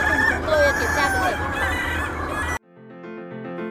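Lạc Thủy chickens on a farm cluck and crow loudly for about two and a half seconds over a busy flock background, then the sound cuts abruptly to a soft musical tone.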